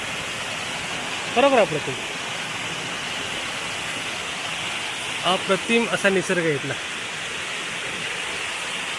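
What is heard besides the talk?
waterfall at the Shevradevi temple in Konkan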